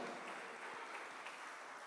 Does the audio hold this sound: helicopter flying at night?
no